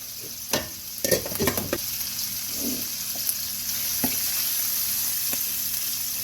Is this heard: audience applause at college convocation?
no